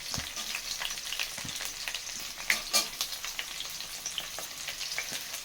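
Onions frying in a pan, a continuous crackling sizzle with scattered sharper pops and a couple of louder stirring scrapes midway, close and moderately quiet, no voices.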